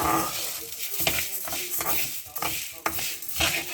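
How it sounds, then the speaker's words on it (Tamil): Grated carrot is dry-roasted in a pan for carrot halwa, with a spoon scraping and stirring it in quick rhythmic strokes over a soft sizzle, close by, while a person talks over it. "அதுக்காண்டி தான் நான் வறுக்கிறேன்."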